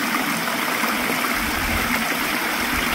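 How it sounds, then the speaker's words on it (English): Running stream at Fairy Bower Falls near Bundanoon, a steady close rush and trickle of water over rocks, continuous and fairly loud throughout with no voices. "we're just out here at this beautiful little running waterway, and it's out at Fairy Bower Falls"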